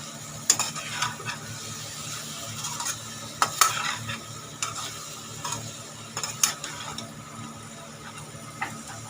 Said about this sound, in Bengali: মশলাটা একটুখানি জল দিয়ে একটুখানি কষে নেব